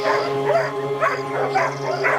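Dogs raised by a prison K-9 unit bark and whimper in short repeated bursts, close and moderately loud, over a steady background hum.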